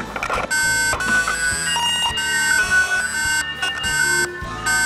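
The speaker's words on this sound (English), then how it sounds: "More importantly, it has a tamper alarm function." Tamper alarm of a wireless video doorbell intercom, a loud electronic wail of steady, harmonic-rich tones pulsing in a repeating pattern throughout, with no voices.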